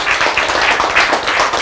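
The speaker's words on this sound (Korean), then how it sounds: "박수." A church congregation claps during a sermon: quick, steady, fairly loud rhythmic claps that continue throughout.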